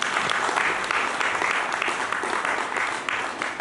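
A church congregation claps together in sustained, dense applause, loud and steady throughout with no voices rising above it.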